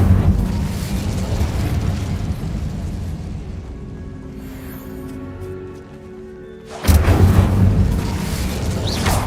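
A fire spell cast in the Hogwarts Legacy video game produces a loud, rumbling burst of flame that roars steadily, dips into a quieter lull, then flares up again with a sharp, dense whoosh near the end.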